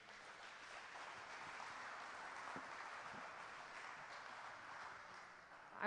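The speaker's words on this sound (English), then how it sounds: "Round of applause for these guys." A session audience applauds the presenters, a steady, even wash of clapping that holds at the same level throughout, heard from within the room with no voices over it.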